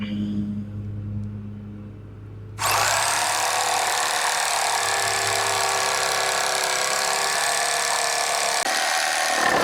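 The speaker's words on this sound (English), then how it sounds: "plug in my jigsaw, and we're gonna cut that" A plugged-in jigsaw cuts wood for a deer blind platform, its steady, loud buzzing drone starting abruptly after a quiet moment and running continuously nearby to the end.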